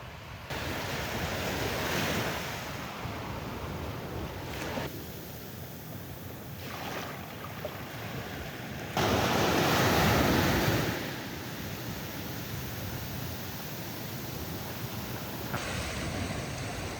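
Ocean waves surging at the sea, a continuous broad roar of surf with wind noise on the microphone, swelling louder midway, no talk.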